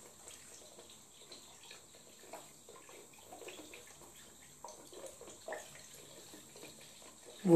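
Water from a 1.5-litre plastic bottle drains slowly into a condom, a soft continuous trickle and gurgle, faint and steady, ending with a sudden louder burst.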